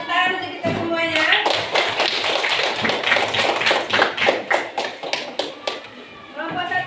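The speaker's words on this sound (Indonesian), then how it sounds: "Tepuk tangan untuk kita semuanya." Schoolchildren clap their hands together in a classroom, a lively, uneven patter of claps that runs for several seconds, with children's and an adult's voices talking around it.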